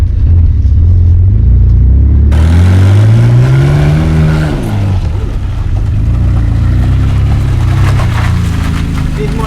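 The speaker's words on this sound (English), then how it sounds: "first I'm just going to increase throttle" A BMW E46 manual drift car's engine revs as the throttle opens, a loud close roar that climbs steadily in pitch, peaks and drops back, then holds a rough, heavy drone.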